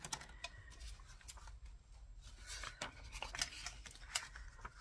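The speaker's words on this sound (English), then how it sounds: "Oops, scissors get caught up everywhere." Scissors snipping paper while making a sewing journal, a series of quiet, close, irregular crisp cuts and rustles with no talking.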